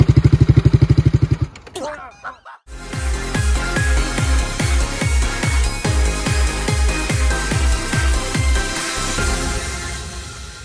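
A motorcycle starts up and rides off: a brief loud burst and clatter, a short gap, then a steady rhythmic engine chug pulsing regularly and holding strong to the end, with no voices over it.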